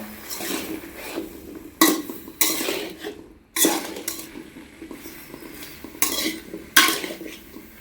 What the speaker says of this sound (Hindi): एबे कोबी आलू को पूरा भल से भाजी दबा।